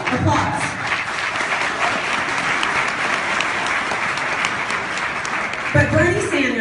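Audience applause fills the room during a political speech, steady and dense clapping throughout before a voice begins at the very end.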